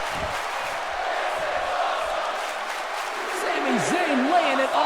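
Arena crowd in the WWE 2K17 wrestling game roars and cheers steadily throughout a Raw match, a dense sustained wall of noise with swelling shouts, while a commentator's voice runs over it.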